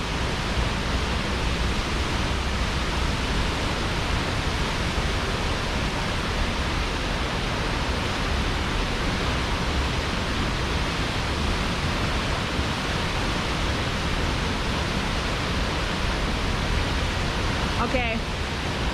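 Nungnung Waterfall in North Bali roars as a steady, dense wash of falling water, loud and unbroken throughout, with a faint brief rustle near the end.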